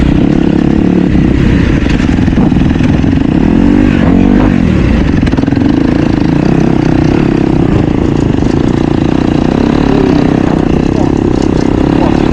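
A motocross dirt bike roars loudly and continuously while riding a sight lap on the big track at Dutchmen MX, the engine note rising and falling with throttle, close to the mic, with a rider's voice faintly under it.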